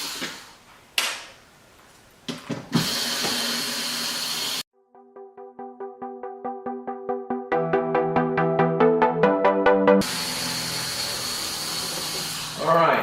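A power drill backs screws out of a C8 Corvette carbon fiber spoiler in close, loud bursts, including one run that rises in short stepped pulses, separated by clicks and handling noises.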